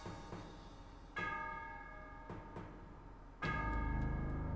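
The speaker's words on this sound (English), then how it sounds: "It's just for whom the bell tolls." Bell tolling in the Caster of Magic video game: deep, resonant strikes with long ringing decays, a few evenly spaced tolls growing fuller toward the end, heard alone without speech.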